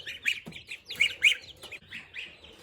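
Chickens waiting on breakfast, a small backyard flock, give several short squawks and clucks close by in irregular bursts over low background noise.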